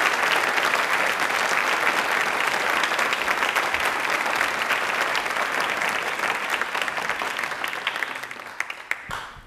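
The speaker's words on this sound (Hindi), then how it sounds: "एक बार प्लीज़ जोरदार तालियां सतीश सर के लिए हो जाएं" Loud, dense audience applause at a Hindi language fortnight event on a Doordarshan campus, continuous and strong before tapering off with a few scattered final claps.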